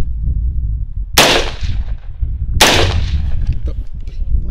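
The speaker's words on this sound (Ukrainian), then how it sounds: "Два постріли без глушника." Two loud unsuppressed rifle shots ring out about a second and a half apart, each a sharp close crack trailing into echo over a low outdoor rumble.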